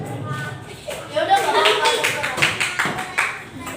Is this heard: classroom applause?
yes